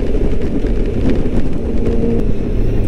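A steady Honda Goldwing GL1800 motorcycle engine hum blends with rushing wind noise while riding at speed, continuous and fairly loud with no talk.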